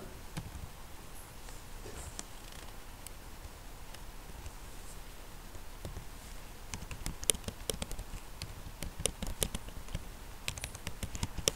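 Typing an HTML comment on a computer keyboard, faint close keystrokes at first that grow into denser, louder runs of clicks over steady background hiss, with no talk.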